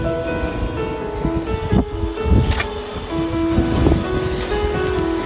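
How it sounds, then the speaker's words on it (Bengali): Wind blows outdoors after rain, a loud, steady rushing gust buffeting the microphone, with rustling and brief tonal background sounds throughout. "ওয়াও কি সুন্দর বাতাস।"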